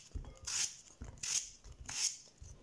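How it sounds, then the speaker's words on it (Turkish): A kitchen knife slices potatoes thinly on a cutting board, giving soft, quiet rhythmic strokes in spaced groups, each cut a short crisp scrape and tap close by, with no talking. "Patateslerimi gördüğünüz gibi ince ince doğruyorum."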